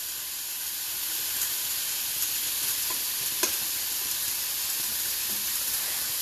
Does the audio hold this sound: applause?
no